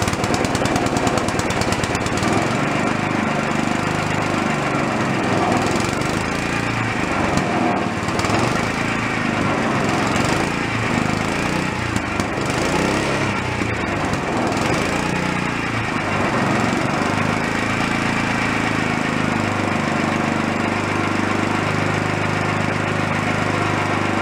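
A broken amusement park go-kart engine runs steadily, a loud, close, rough small-engine clatter and drone with a rattling, uneven texture throughout and no voices.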